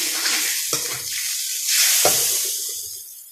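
Water poured into a hot pan of frying egg noodles sets off a loud rush of sizzling and hissing steam, with clatter from a stirring utensil, close and without talk.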